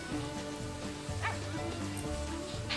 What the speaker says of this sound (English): here are the baby wolves